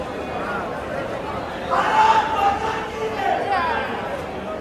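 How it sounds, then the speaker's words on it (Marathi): Outside Wankhede stadium before an IPL cricket match, a large crowd fills the air with a steady, dense murmur of chatter, swelling louder for a moment midway, with voices talking throughout. "छान माहोल झालाय ना पूर्ण गर्दी गर्दी."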